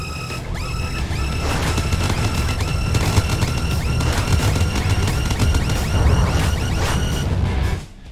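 A video game missile silo warning sounds in a dense, busy burst of layered booms and tonal alarm-like bands, loud and continuous for several seconds before cutting off abruptly.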